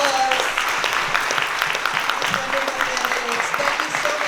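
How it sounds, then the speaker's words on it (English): An audience at a West Orange mayoral candidate forum held at B'nai Shalom claps steadily in an indoor hall, a dense, sustained round of applause from a moderate-sized crowd, with a few voices faintly mixed in. "Let's give a really big round of applause."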